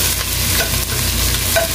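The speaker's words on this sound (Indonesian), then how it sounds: "tumis kembali biar wangi" Bird's eye chilies, kaffir lime leaves and Indonesian bay leaves stir-fried in a pan with tamarind and keluak, giving a steady close crackling sizzle with scraping stirs throughout and no talking.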